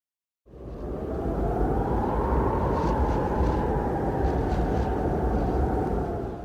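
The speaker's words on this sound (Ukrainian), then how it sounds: "Так, це звук справжньої зимової хуртовини." A steady, loud roar of rushing wind with constant noise that swells in and holds without pause, like a howling blizzard.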